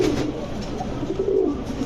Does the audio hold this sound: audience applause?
no